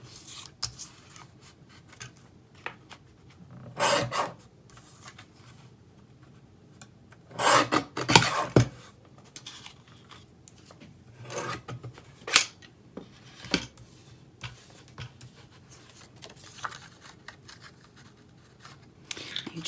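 Paper being cut for a handmade card makes short, scattered bursts of rasping and scraping, separated by quiet gaps, close to the microphone.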